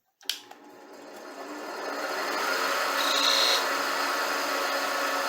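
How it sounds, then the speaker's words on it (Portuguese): A small oblique skew chisel with a straight section cuts into wood spinning on a lathe, a steady broadband rasping scrape that builds after a brief start and holds loud and close throughout. "Eu vou usar aqui agora um formão. Ele tem a seção reta, mas é um formão chanfrado, oblíquo, pequenininho."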